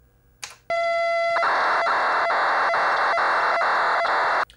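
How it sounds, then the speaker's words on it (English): Texas Instruments TI-99/4A cassette tape data plays as a loud, continuous harsh screech of modulated tones, broken by short periodic header beeps repeating roughly every half second after a brief click at the start. "If you listen carefully, you hear a periodic beep, beep, beep among all the other data."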